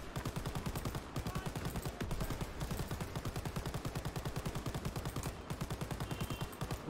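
Rapid automatic gunfire from the World War II game Call of Duty WW2 keeps up a steady, fast rhythm of loud shots, with only a brief pause before it resumes.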